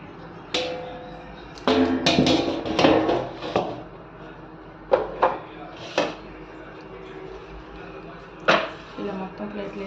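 Pappu chakka mixture scooped and pressed onto a ghee-greased plate, making a series of sharp scraping and tapping clatters of spoon on metal, irregular and close, with quiet stretches between.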